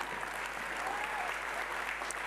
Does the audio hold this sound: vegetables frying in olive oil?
no